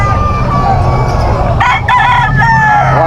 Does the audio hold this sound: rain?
no